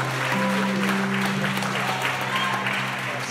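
Church congregation applauding during a French-language service, a dense sustained wash of clapping over a low steady drone, with faint voices mixed in.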